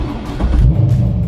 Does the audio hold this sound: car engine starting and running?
yes